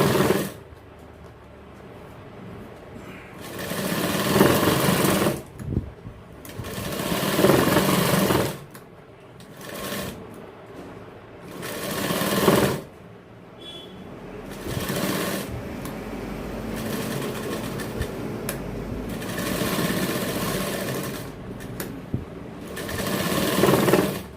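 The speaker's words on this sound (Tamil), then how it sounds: "இப்போ இன்னொரு டபுள் தையல் வந்து கழுத்துக்கு மட்டும் போடுறோம்." An industrial sewing machine stitches a 34-inch men's jacket, adding double stitching along the neck. Loud bursts of fast whirring alternate with short pauses as the fabric is repositioned, heard close up without talk.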